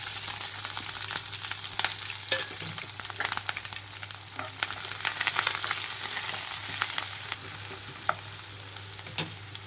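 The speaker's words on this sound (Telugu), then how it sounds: "ఆయిల్ అంతా హీట్ అయిన తర్వాత తాలింపు గింజలు వేసేసుకుంటున్నాను ఇక్కడ తాలింపు గింజలన్నీ వేగేటప్పుడే కట్ చేసి పెట్టుకున్న ఉల్లిపాయలు పచ్చిమిరపకాయలు అలాగే కరివేపాకు కూడా వేస్తున్నాను" Tempering seeds, chopped onions, green chillies and curry leaves sizzle in hot oil for a cauliflower curry, a steady close frying hiss dotted with small crackles and pops, with no talking.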